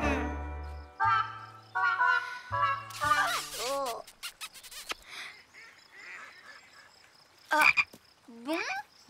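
A cartoon frog croaks several times, loud, close and comic, mixed with honking, goose-like calls and brief voices in an animated children's show.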